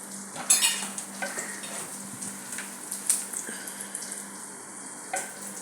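A fish curry cooks in a pot in a home kitchen, with bubbling and sizzling broken by clinks and scrapes of a utensil stirring against the pot, close up, with no talking.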